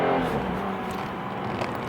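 BMW M240i with a B58 engine and a non-M Performance exhaust gives a steady, fairly loud engine drone that holds even for the whole moment, with no clear revving peaks.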